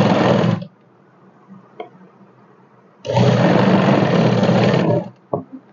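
A sewing machine stitches a ladies' suit in two short bursts, a brief run and then a longer steady whirring run, with quiet pauses and small clicks between.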